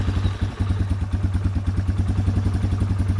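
A rebuilt Yamaha Wolverine ATV engine fires up and runs with a steady, close, low-pitched rapid thump, a rhythmic mechanical idle with a light clatter throughout.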